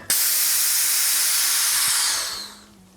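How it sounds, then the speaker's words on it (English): Gas hisses loudly from a leaking valve on a home brew draught keg, a sudden sharp burst that holds steady for about two seconds before tapering off. "Open the valve. In goes the gas. And that's it. We got a leak."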